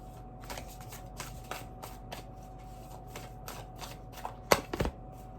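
Tarot cards shuffled by hand at close range make a run of soft, rhythmic riffling flutters, ending in a few sharper taps as the deck is squared.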